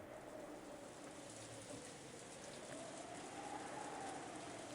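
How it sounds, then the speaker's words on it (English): Wind and rain used as a sound effect in an audio drama: a faint, steady patter of rain on a surface with soft bird cooing underneath, distant and even throughout. "The silence between the two was filled by the sound of the wind and rain."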